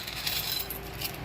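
Coins of several kinds, including gold-coloured ones, dropped into a clear glass, giving a continuous bright metallic jingling and clinking with no talk.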